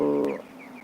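A chicken on a poultry farm of about two thousand young birds gives a single short, tonal call that fades quickly into a quiet background.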